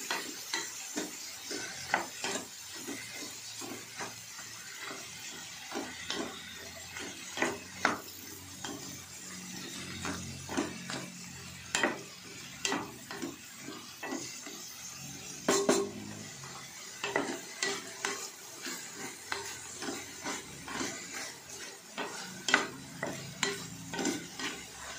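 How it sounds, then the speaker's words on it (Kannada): Brinjal frying in hot oil with a low continuous sizzle, broken by frequent clinks and scrapes of a spoon stirring the pan, fairly quiet with no talk. "ಬದನೆಕಾಯಿ ಹಾಕ್ತಾ ಇದ್ದೀನಿ. ಎಣ್ಣೆ ಚೆನ್ನಾಗಿ ಉಕ್ಕೊಳ್ಬೇಕು ಬದನೆಕಾಯಿನ."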